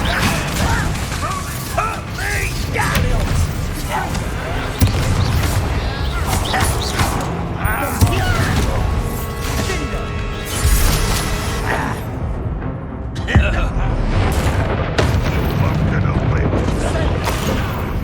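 Loud, continuous Bombarda spell blasts and booming impacts ring out during a Hogwarts Legacy duel, with dense crashes and rumbling layered under a shouted voice casting spells.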